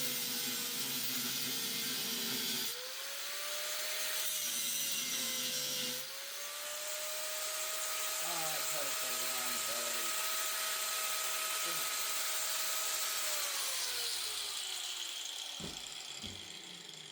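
A power cutting tool grinds through an exhaust flange on a truck in a garage, a loud sustained whine that dips in pitch as it bites, with pauses and a few clanks toward the end.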